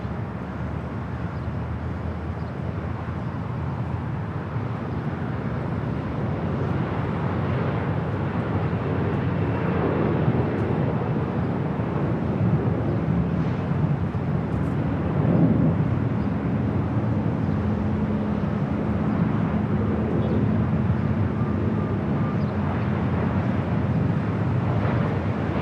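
A jet aircraft lands on runway 24 right at LAX, a continuous, heavy roar rumbling for the whole stretch, with wind buffeting the microphone and a slight swell in the middle.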